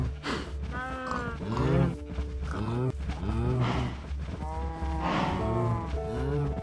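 Cows in the video game Minecraft moo repeatedly, several drawn-out, tonal lows overlapping one after another at close range and fairly loud.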